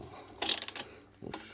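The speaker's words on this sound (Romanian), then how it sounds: "Montăm și bujia la loc. Okay. O strângem" A ratchet wrench tightens a spark plug back into a Piaggio Ciao moped engine, giving a few quick close clicking bursts of the pawl separated by short pauses.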